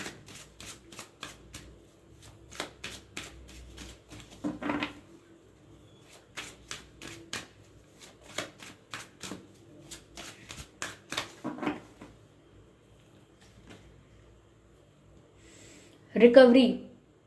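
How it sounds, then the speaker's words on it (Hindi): Tarot-style cards shuffled from a deck by hand, rapid riffling bursts repeating in an uneven rhythm, close and fairly quiet, with a louder rustle near the end. "Let's take card from this deck."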